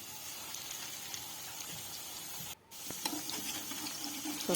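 Chicken and vegetable pakoras sizzle in hot oil in a pan, a steady close hiss that drops out briefly and then returns with crackling as more pieces go in.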